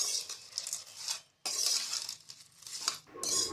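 Potato wafer chips chaat is tossed together in a bowl. Crisp rustling and clinking come in several bursts with short pauses between them, close by.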